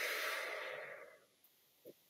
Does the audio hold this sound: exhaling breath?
yes